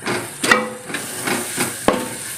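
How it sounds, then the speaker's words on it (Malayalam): Vinegar heats in a pan for a loobica pickle, producing a steady hiss of bubbling and steam with several sharp clinks and taps from utensils at irregular intervals, no voices. "ആ വിനാഗിരി ഒന്ന് ഒന്ന് തിളച്ച് വരണം"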